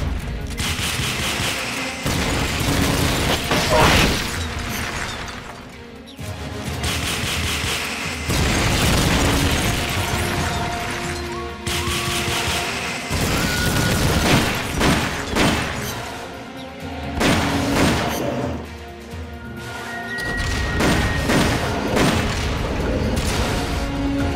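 Rocket launcher fire in Metal Gear Solid: Peace Walker: loud, repeated booming blasts with rumbling bursts and mechanical clatter, several launches in heavy succession through the whole stretch with no talking.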